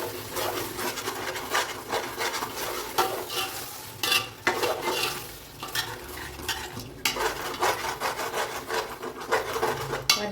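Thick chicken biryani curry gravy bubbles and sizzles in a pan while a spoon scrapes and stirs it repeatedly, close up and continuous.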